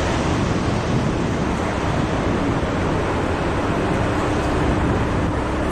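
Steady, dense roaring rumble of large quarry machinery, continuous and broadband with strong low end, working nearby without pause, beside a flowing river on a mountain trail in Asakura, Fukuoka.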